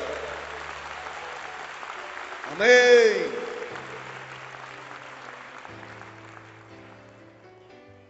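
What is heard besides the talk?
congregation applauding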